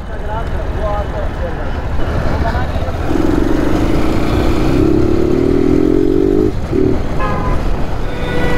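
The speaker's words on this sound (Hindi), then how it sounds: "बाइक से अपनी घूम फिर लेते हैं बढ़िया सा, एक राउंड मार देते हैं यहाँ का।" A Bajaj Pulsar 220F motorcycle rides along with a steady engine drone and road noise, joined midway by a long sustained horn-like tone and a few shorter toots.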